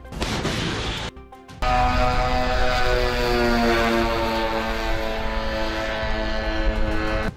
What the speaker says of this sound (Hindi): हिजबुल्ला के दो लड़ाके एक ड्रोन को लॉन्चर में फिट करके उसे फायर कर देते हैं